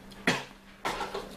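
Two short, close coughs from a woman, spaced about half a second apart, with no talking in between.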